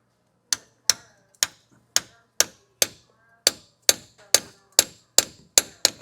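A hammer taps a part during a Toyota repair, about a dozen sharp metallic strikes in a steady rhythm, close and crisp, with no talk.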